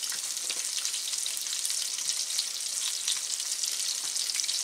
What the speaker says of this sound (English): hopefully you all can just see that sizzling away